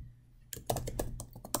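Typing on a computer keyboard while drafting chemistry course objectives, a quick run of close, crisp key clicks in irregular rhythm that starts after a short quiet pause, with no talking.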